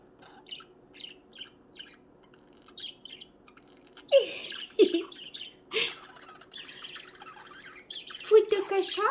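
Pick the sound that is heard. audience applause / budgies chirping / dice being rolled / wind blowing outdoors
budgies chirping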